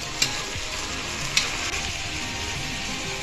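Vegetables for veg pulao being stirred in a pan with curry leaves, coriander and cucumber, a steady soft sizzle with a couple of sharp utensil clicks, close and unaccompanied by talk.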